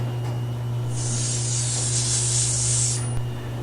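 Aerosol spray starch released in one continuous hiss of about two seconds, close and fairly loud over a steady low electrical hum.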